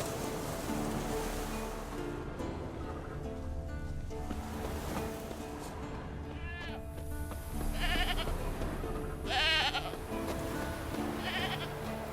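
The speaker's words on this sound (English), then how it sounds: "there is the goat" A goat in The Witcher 3 bleats a few times, wavering cries rising out of a dense bed of game music and ambient outdoor noise over about twelve seconds.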